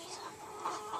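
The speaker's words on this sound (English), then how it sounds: "Oh, there's chicken in here." On a farm, a chicken gives soft, quiet clucks in a brief burst, close by with faint background noise.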